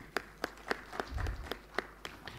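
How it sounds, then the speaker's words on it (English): Seminar audience applauding after a panel session, sparse individual claps rising above a quiet hall, fairly faint and distant with a low rumble partway through. "join me in a round of applause"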